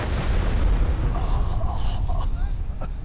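A low, rumbling explosion in the fantasy game Enderal, a Skyrim mod, fills the clip with a steady, dense roar that stays loud throughout, with faint higher clatter near the end.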